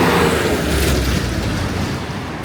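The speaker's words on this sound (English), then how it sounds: "There's a bus on the wrong side." A bus rumbles past on a busy Kolkata street near Chowringhee Road, a loud, close, broadband engine roar that stays steady and slowly eases off, with no voices over it.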